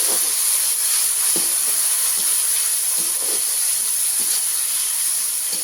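Chopped medium tomatoes hitting a hot pan for a dry prawn and bottle gourd curry, a loud steady steam-like hiss with faint scattered clicks and taps throughout, no voices.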